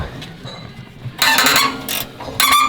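Catalytic converter collector bolts being removed from a Honda Pioneer 1000: quiet mechanical fiddling, then bursts of loud ratcheting or tool whirring in two separate runs, close up with no talk.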